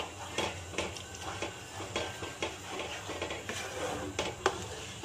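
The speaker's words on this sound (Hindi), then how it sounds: "अब इसके अंदर मैंने दही डाल देना है। इसको अच्छी तरह से पालक के अंदर मिक्स करना है।" A spoon stirring yogurt into cooked spinach for Punjabi-style palak paneer in a metal pot, repeated scraping strokes and soft clinks of utensil against the pan with a faint sizzle underneath, close and steady.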